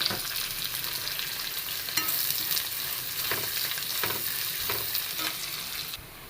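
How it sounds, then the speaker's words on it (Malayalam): Sliced onion sizzling in oil in a pan with cinnamon, cloves, cardamom, bay leaf and a pinch of fennel seeds, a steady close crackle with occasional stirring scrapes throughout, no voices. "പട്ട, ഗ്രാമ്പൂ, ഏലക്ക, ബേ ലീഫ്, ലേശം പെരുംജീരകം, സവാള കട്ട് ചെയ്തിട്ട് കൊടുത്തു."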